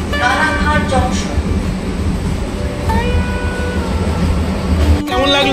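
Inside an air-conditioned local train on the Sealdah to Ranaghat line, a loud, steady rumble of wheels and carriage runs throughout. Tonal voices, like an onboard announcement, sound over it.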